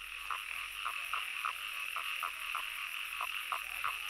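Toads at a pond croak in a steady repeated rhythm, around a dozen short pulses over a few seconds. The calls are moderately close and sit over a constant high insect-like hiss.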